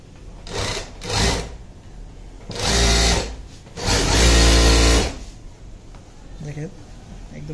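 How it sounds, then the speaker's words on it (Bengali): An MH-380 chain stitch sewing machine runs in several loud whirring bursts of rapid stitching, starting and stopping with quiet gaps between runs. "আমরা এখন সুতা লাগায় সেলাই করব"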